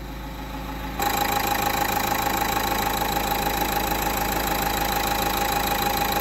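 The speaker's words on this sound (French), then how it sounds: "Vous pouvez écouter le moteur, on va aller écouter le moteur." A Dacia Duster with an engine warning light and a suspected faulty injector idles close by, a steady mechanical drone with rapid even ticking that starts abruptly and keeps a constant level.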